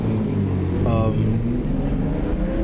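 A BMW M2 CS race car engine drones steadily in the racing game Assetto Corsa Competizione at Valencia, a loud constant rumble with a brief higher whine partway through, and someone talks over it.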